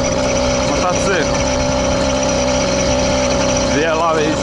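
A small engine on a bicycle-based all-terrain vehicle, being run in, idles steadily close by with a constant buzzing hum while a couple of brief sliding tones rise over it.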